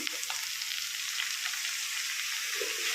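Sorrel leaves fry with onions in a hot pan, giving a continuous bright sizzling hiss with small crackles, steady and fairly close, with no talking.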